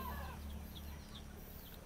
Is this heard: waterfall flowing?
no